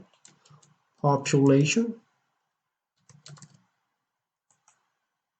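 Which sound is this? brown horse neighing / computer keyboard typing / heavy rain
computer keyboard typing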